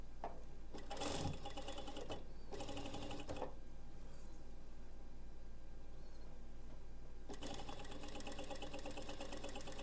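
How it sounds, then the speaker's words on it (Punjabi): A domestic sewing machine fitted with a T3 presser foot stitches in steady bursts, its fast even mechanical whirr starting and stopping with short pauses, close and continuous. "ਦੇਖੋ ਤੁਸੀਂ ਪੈਪਨ ਦੇ ਬਿਲਕੁਲ ਨਾਲ ਨਾਲ ਆਪਣੀ ਇਹ ਸੂਈ ਚੱਲ ਰਹੀ ਹੈਗੀ"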